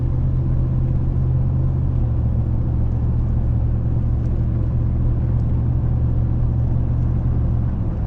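A 2006 Dodge Ram 1500 engine runs while driving, with a suspected EGR valve fault, producing a steady, loud low rumble and drone inside the cab with no talking.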